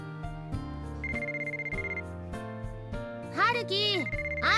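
A mobile phone rings in the visual novel game White Album 2, a looping melodic ringtone with bright chiming notes layered over soft game music, plus a brief rising sparkle toward the end.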